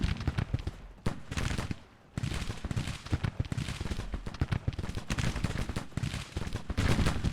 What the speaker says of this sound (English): We got Wadsworth Battery also opening fire.